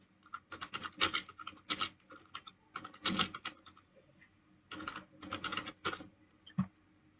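Typing on a computer keyboard, bursts of quick, close key clicks in short runs with brief pauses between them, with no voices.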